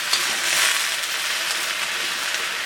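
Bok choy stir fries in a pan, giving a steady bright sizzle with light stirring scrapes throughout and no voices.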